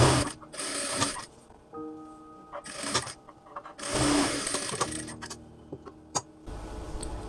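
A sewing machine stitches kameez fabric along a shoulder seam in several bursts of rapid whirring and clatter, separated by pauses with faint handling noises, heard close.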